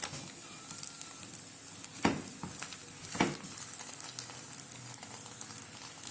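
Crepe-style flatbread frying in a pan for egg sandwiches gives off a soft, steady sizzle, with a couple of sharper clatters of a utensil against the pan over the low hiss.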